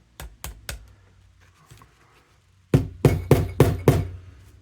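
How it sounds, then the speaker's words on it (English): A hammer knocks sharply on wood, tapping a piece of a Big Ben model kit flush: three quick taps, a pause with faint handling noise, then five louder, evenly spaced blows. "tap that up a little bit"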